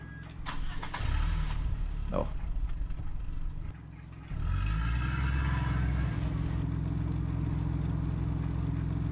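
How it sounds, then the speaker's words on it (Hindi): A car engine turns over and then settles into a steady idling rumble that carries on alone after a brief voice, in the horror video game Fears to Fathom. "बैठ जाओ, गाड़ी चलाओ।"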